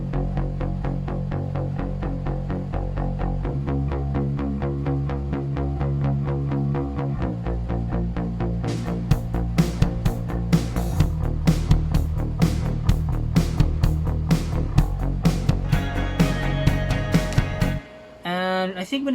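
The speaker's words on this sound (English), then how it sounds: "we have a bass guitar, but it's layered with a synth bass as well," Punchy bass line from a bass guitar layered with synth bass, pulsing through a full pop mix, with crisp drums entering midway and a brief dropout near the end.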